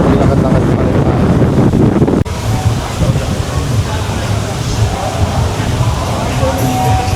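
Strong wind buffets the microphone on Boracay beach at Station 2, a loud continuous roar with surf underneath and brief speech under the gusts.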